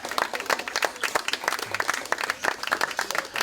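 A crowd applauding, dense scattered hand claps forming a steady wash of clapping throughout, fairly close and continuous.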